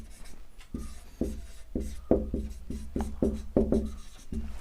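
Chalk or marker tapping and scraping on a board as a lens equation for a microscope objective is written, a run of short, distinct strokes up close, fairly clear with no speech.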